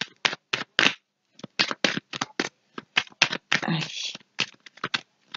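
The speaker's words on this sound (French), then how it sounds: "Allez, on va prendre 5 cartes." Tarot-style cards are riffled and shuffled in quick bursts, crisp rapid fluttering snaps close to the mic, with a brief spoken word near the start.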